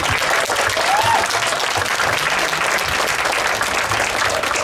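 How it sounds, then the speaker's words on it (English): Audience applause at a vegan event talk, a steady wash of clapping from a room full of people that continues loudly for several seconds without letting up. "let's give her another round of applause"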